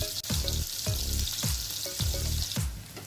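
Salted, turmeric-dusted potatoes sizzle and crackle in hot oil, with rhythmic scraping sweeps from stirring every half second, close and fairly loud, no talking.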